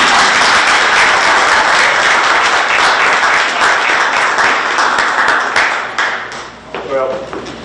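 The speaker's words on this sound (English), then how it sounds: "Let's clap for Kevin." An audience at a West Virginia Legislature session claps steadily and loudly for several seconds, then the applause thins out and fades.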